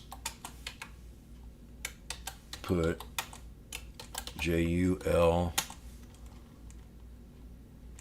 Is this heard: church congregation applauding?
no